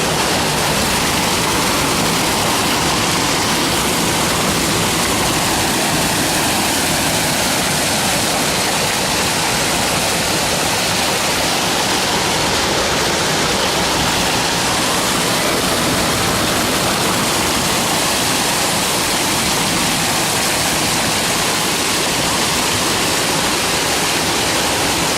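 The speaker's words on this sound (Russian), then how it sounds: "Водопад тяжелый." A powerful waterfall roars continuously, loud and close, a dense unbroken rush of falling water.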